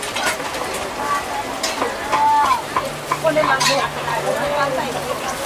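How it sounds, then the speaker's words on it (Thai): Food deep-fries in vegetable oil at a market stall, a close, steady sizzle with scraping stirs and clinks, while voices talk over it intermittently. "จะเป็นการทอดน้ำมันเหรอคะ"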